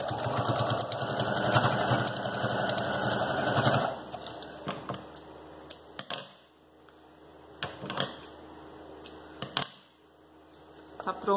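A sewing machine runs in a fast continuous rapid-stitch burst while sewing elastic onto a fabric baby shoe, then stops, leaving scattered clicks and handling knocks of the fabric and machine.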